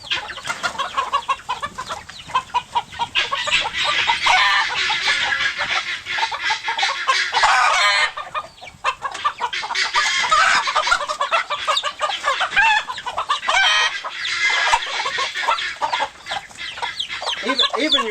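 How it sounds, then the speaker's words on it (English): A rooster clucks repeatedly and crows, loud and close, with busy bird calls filling the whole stretch. "I do have one rooster I want to show you."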